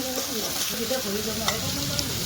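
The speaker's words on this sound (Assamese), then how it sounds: "নিমখখিনি দিয়াৰ পিছত মাংসখিনি আকৌ ভালদৰে ভাজি ল'ব লাগিব" Broiler chicken fried with salt in a pan makes a constant close sizzle over a low, rumbling stir, with faint tonal wavering and a couple of soft utensil ticks; no talking.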